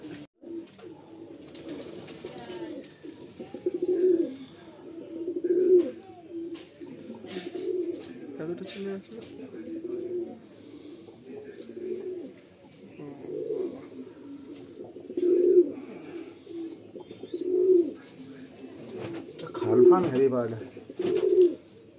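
Pigeons cooing close by in repeated low throaty bursts, with scattered faint chirps and some background murmur throughout.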